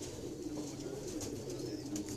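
A high-flying domestic pigeon in Pakistan gives soft, low, rolling coos close by, steady and quiet for a couple of seconds with no talk.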